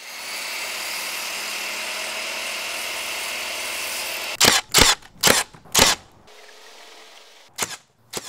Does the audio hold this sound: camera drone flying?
yes